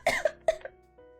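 A person coughs three times in quick succession, close and fairly loud, with sharp bursts trailing into a short faint voiced sound.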